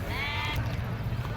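Sheep bleat loudly and close at Atpadi's Saturday sheep and goat market, a wavering cry over a dense, continuous crowd murmur of livestock and people.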